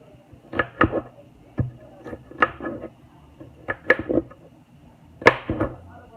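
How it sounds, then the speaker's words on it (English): Bell peppers being cut with a knife, sharp irregular chops and taps on a board arriving in small clusters, fairly close, with no talk. "So I'm just cutting these up, you guys."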